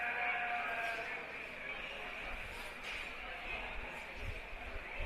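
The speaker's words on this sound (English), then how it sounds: "First of all, we have Blackface commercial ewes." Blackface commercial ewes bleat at a county fair sheep show, a few faint calls rising over a busy arena murmur and background voices.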